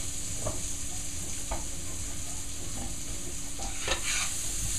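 Onions and chopped carrots stirred in a pan for a beef casserole, a spoon scraping flour off the bottom, with steady sizzling throughout and a few soft scrapes, close and without talk.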